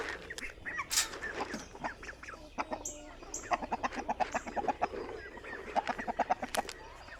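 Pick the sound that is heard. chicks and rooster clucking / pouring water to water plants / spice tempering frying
chicks and rooster clucking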